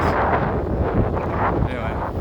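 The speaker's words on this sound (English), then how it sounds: "It's also real windy." Strong wind roars and buffets the microphone continuously while bikepacking on a bicycle across Florida, loud and broadband with gusty swells throughout.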